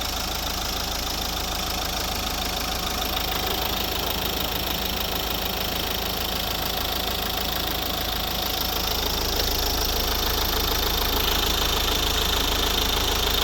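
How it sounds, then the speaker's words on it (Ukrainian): A 2009 Nissan Qashqai 1.5 dCi (K9K, Euro 4) diesel engine idles steadily and evenly up close, a continuous rumble with a light rhythmic knock and no voices. "Послухайте як рівно працює тиходвигун."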